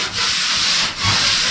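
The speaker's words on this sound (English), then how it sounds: "Let's get some sanding done on this." Sanding on the hood of a 1977 Datsun 280Z, two close, loud back-and-forth rasping strokes of abrasive over the panel.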